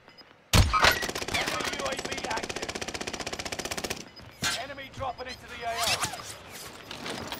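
Sustained rapid machine gun fire in a multiplayer military shooter, a long steady rattling burst lasting several seconds, then scattered sharper shots and clatter with game voice chatter mixed in.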